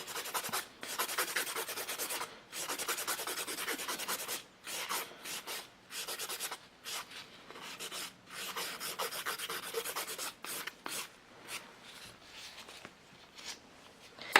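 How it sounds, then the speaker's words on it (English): A nail file rasps back and forth across a hard gel nail in quick, close strokes, the steady rubbing broken by brief pauses, with no voices. "Could do with a little bit more filing actually."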